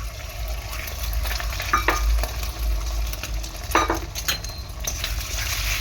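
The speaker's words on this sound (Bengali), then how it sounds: "এখন আমি দেরি না করে ফাটিয়ে রাখা ডিমটা দিয়ে দেবো এখানে" Beaten egg hits a hot wok and fries with a steady close sizzle, broken by a few scraping stirs and light clinks of a utensil against the pan.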